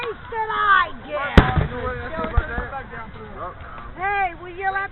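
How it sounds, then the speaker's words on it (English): Fireworks go off at a public display in St. Marys, Pennsylvania, with a sharp loud bang near the middle and a few lighter pops, heard under excited, overlapping talk and shouting from nearby people. "will you let me see the fireworks?"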